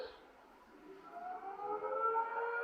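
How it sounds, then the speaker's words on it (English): An air raid siren plays from a Protect and Survive projection inside the Hack Green secret nuclear bunker, a wavering wail that swells slowly and grows louder, alone in the room. "Air raid siren goes off."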